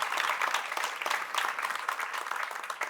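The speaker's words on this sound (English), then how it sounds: "please join me in a round of applause" Audience applause at a Sydney Ideas evening talk: a steady, dense wash of clapping from a crowd indoors, sustained evenly for a few seconds with no voices on top.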